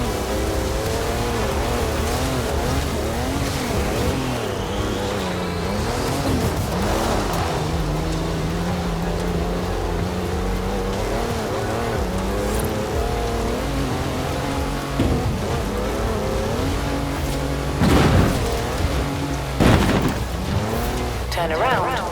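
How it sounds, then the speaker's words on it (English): A four-wheel-drive car on mud tyres slides sideways in a Forza Horizon 4 drift, its engine revving hard with squealing tyres, loud and sustained, while a voice talks over it. "That's a four-wheel drive car on mud tyres, completely sideways."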